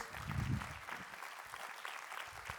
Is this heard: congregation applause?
yes